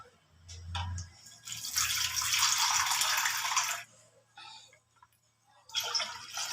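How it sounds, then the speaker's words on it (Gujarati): Water is poured into whisked dal in a home kitchen, giving bursts of splashing and trickling that rise, pause and return, with faint low hum underneath and no talking. "પછી આપણે જેટલી દાળ કરવી હોય એટલું આપણે તેમાં પાણી નાખી દઈશું"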